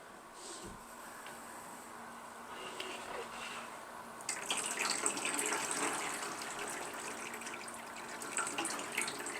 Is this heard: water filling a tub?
yes